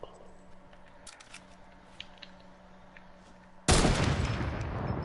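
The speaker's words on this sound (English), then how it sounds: "Heavy sniper rifle." Heavy sniper rifle fire in a video game: a single loud, sharp blast hits near the end and rings out into a sustained roar, after a stretch of quiet, low game ambience.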